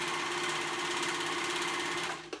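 Serger stitching through fabric during jacket-to-backpack sewing, a steady rapid mechanical whir running continuously at close range, then cutting off abruptly near the end with a brief clunk.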